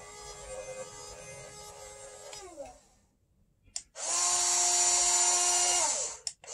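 Stock Huina 1572 RC excavator running its winch and lift clutches while lifting an RC Cat D5 dozer, a high steady electric whine that stops midway, then returns loud and sustained before cutting off.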